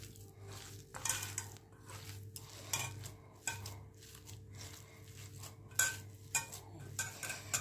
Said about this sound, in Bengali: এভাবে মেখে নিতে হবে স্মুথ করে, আলুর দানা যেন না থাকে